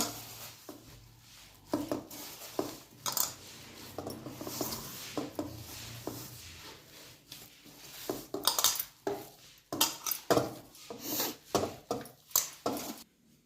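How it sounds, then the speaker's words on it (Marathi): Dough for radish paratha being mixed and kneaded by hand, with irregular soft slaps, squelches and occasional clinks against a bowl, close and fairly quiet, with no talking. "आता हे पीठ असं छान भिजवून घेऊ, पोळीच्या पिठासारखं"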